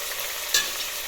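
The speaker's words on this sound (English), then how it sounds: "now you go in with the tomatoes." Tomatoes tip into a pan of caramelized onions, a steady soft frying sizzle with stirring and one brief louder scrape or splash midway, close by with no talk.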